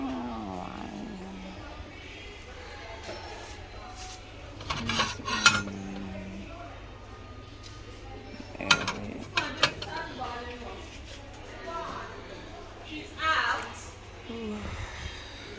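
Dishes and cutlery clink and clatter in a sink during washing, with irregular scraping and knocking of plates and utensils under ongoing conversational talk in a home kitchen.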